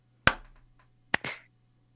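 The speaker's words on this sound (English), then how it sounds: "We'll do the 1 2 3 clap." Hand claps made to sync a recording: one sharp, close clap, a pause of about a second, then two more in quick succession, each ringing out briefly over a low steady hum.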